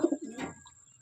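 A pigeon gives one short coo, a soft low throaty call fading out within a second, fairly close and alone with no talk.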